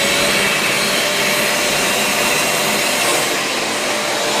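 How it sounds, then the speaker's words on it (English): A vacuum cleaner runs steadily and loud, sucking up water while cleaning a flooded house, with a constant broadband roar and no talk. "Means we can plug the vacuum back in."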